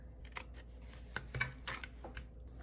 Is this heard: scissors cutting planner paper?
yes